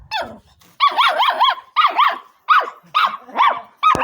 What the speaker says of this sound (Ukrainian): гавкає на діда